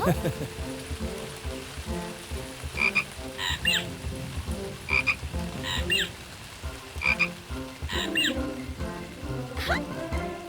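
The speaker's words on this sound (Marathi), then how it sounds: "बेडकाशी यारी करते टूकी प्यारी." A frog croaks repeatedly in quick rhythmic bursts, loud and close, over a steady hiss that resembles rain and a busy background of other sounds.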